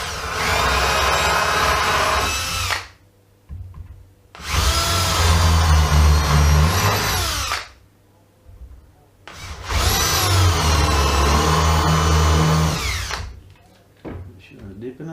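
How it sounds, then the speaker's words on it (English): Power drill countersinking screw holes in a floorboard shelf, running in three long loud bursts separated by short pauses, close up and without talk. "Now, I'm just going to start countersinking all these holes into place"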